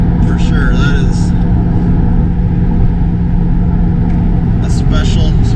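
A 2022 Chevrolet C8 Corvette convertible on the road: a loud, steady low engine and road rumble fills the cabin while someone talks over it throughout.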